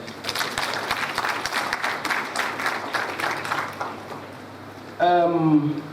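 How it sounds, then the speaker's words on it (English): Graduates at a 2014 graduation ceremony applaud themselves in a dense burst of clapping lasting about five seconds, then a voice speaks briefly as it fades. "I want you to clap for yourself"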